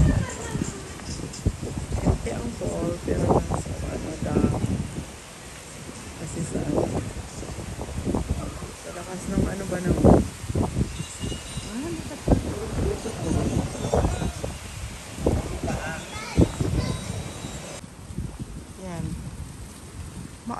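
Strong wind blowing across a cloudy beach with big waves at Calayo, Nasugbu, Batangas, Philippines, a steady broadband rush with gusty buffeting against the microphone throughout, with people talking over it.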